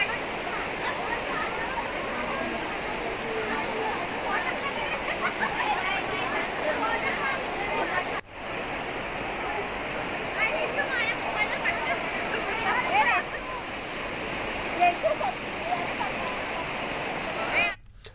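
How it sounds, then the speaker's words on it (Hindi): After heavy rain in Sausar, Chhindwara, floodwater flows strongly over roads, a loud, continuous rushing roar of moving water lasting about eighteen seconds, with faint voices and babble beneath it. "छिंदवाड़ा के सौसर में हुई तेज बारिश से सड़कों पर पानी का तेज बहाव देखने को मिला।"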